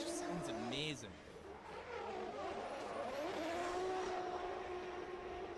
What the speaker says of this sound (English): I really hope the sound of this car comes across on the live stream because it just sounds amazing.